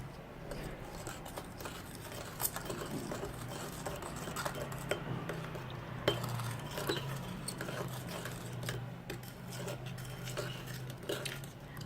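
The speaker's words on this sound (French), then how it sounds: "Mélangez bien" Green clay being stirred in a bowl gives repeated small clicks and taps of a spoon against the sides in an uneven rhythm, close and fairly quiet, over a low background hum.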